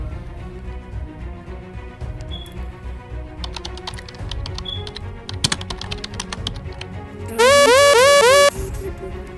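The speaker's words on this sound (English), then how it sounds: "Let's enter the passcode" A passcode is typed on a keyboard in a video game as a run of crisp key clicks, followed by a loud, rising electronic alarm tone near the end.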